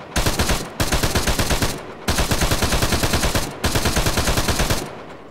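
Sustained automatic gunfire in the military video game Arma 3, heard as three long, loud, rapid bursts with brief pauses between them, very close.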